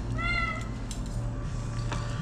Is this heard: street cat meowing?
yes